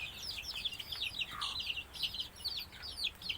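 Backyard chickens kept in hot summer weather, panting and drinking often, give soft clucks and chirpy calls that overlap continuously at moderate distance over a low steady background.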